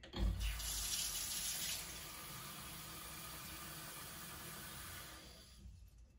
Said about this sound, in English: I am going to fill this container with warm water.